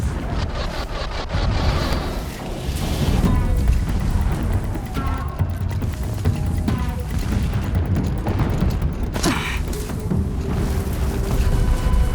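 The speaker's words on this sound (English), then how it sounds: "explosions in the distance" Distant explosions rumble through the game world of Horizon Zero Dawn, a long, continuous roll of heavy booms and crackling bursts at steady loudness.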